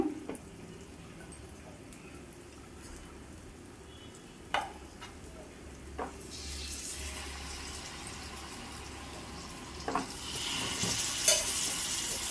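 Chicken frying in oil in a home kitchen, a steady faint sizzle with occasional stirring clinks, growing brighter and louder near the end.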